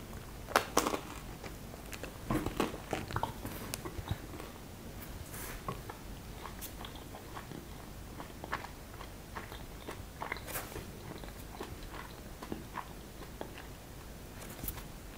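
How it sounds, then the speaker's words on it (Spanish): Someone chews food slowly with many bites per mouthful, giving soft, close crunches and bites spaced irregularly over a quiet background, with no talking. "empezamos con la primera estrategia, que es dar 30 bocados o 30 mordiscos a cada bocado"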